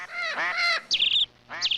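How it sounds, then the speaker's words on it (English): Noisy birds honk loudly and close by, two long goose-like calls followed by shorter shrill squawks with brief pauses between. "could you please keep those birds quiet?"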